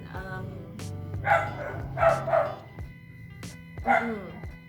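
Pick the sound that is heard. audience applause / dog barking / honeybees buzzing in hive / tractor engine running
dog barking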